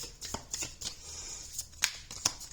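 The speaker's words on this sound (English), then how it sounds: "I think I'm going to pull all of the cards before I start to speak." Tarot cards are shuffled and pulled by hand up close, with soft riffling flicks and a few sharper card snaps in an irregular rhythm and no talking.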